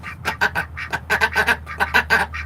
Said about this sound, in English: There's Mama Duck and her eggs.